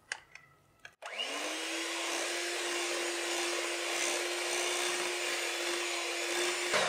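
After a brief click, an electric mixer whirs steadily and loudly at close range, beating chocolate chip cake batter in a bowl with a constant pitched hum.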